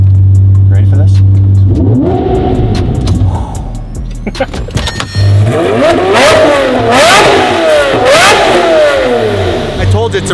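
A Lamborghini Murcielago with its check engine light on revs hard and loud, several rising and falling rev sweeps after an idle, close by with people talking over it.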